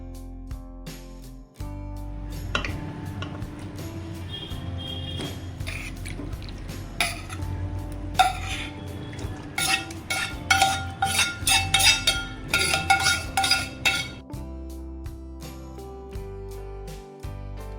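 A chicken curry marinade is stirred in a metal bowl and chicken pieces go in, giving close clinks, scrapes and wet slaps that grow busier toward the end, with no talk.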